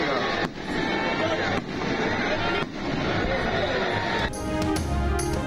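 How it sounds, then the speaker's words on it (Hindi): Fireworks display at a Guru Nanak birthday celebration in Nankana Sahib: a dense, continuous roar of bursts and crackle from a crowd setting, with a few sharper cracks near the end. "आतिशबाजी का शानदार मुजाहरा"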